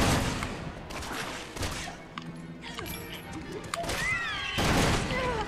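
Gunfire in the video game Resident Evil 6 sounds as a rapid volley of sharp shots and crashing impacts, loud and close, with a squealing whine near the end.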